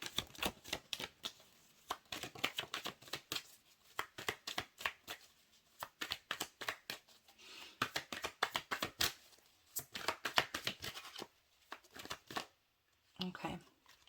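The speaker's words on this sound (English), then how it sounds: "So let's get to shuffling." Rapid riffling and slapping of tarot cards being shuffled, in repeated bursts with short pauses between, close and crisp.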